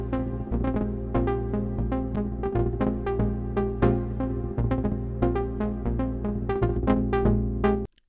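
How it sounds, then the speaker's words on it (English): Synth pattern for an Afro-melodic house idea, played with convolution reverb added, giving a steady rhythmic sequence of plucked tonal notes over a sustained low bass, with a washy reverb tail under each hit and no voices. "Next, I've added a reverb, just a convolution to make it sound like this."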